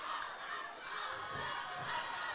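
A crowd at a night high school varsity football game between the Mills University Comets and Watson Chapel Wildcats roars steadily in a broad wash of cheering, with occasional louder swells.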